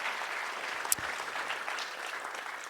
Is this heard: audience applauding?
yes